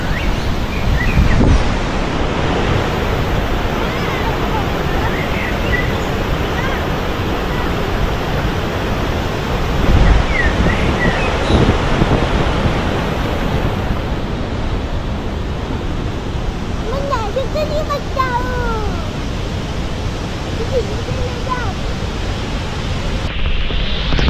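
Nuranang waterfall roars as a dense, continuous rush of falling water close by, steady and loud from start to finish, with faint voices blending into the roar.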